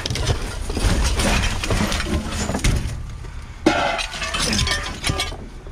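Glass shattering and clinking amid debris while rummaging through a dumpster, a sustained crunching clatter of loud breaking shards close by, with a sharp fresh crash partway through.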